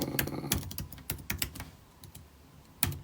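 Someone types a password on a computer keyboard, producing a few seconds of irregular, close, crisp keystrokes with short pauses between them and no voices.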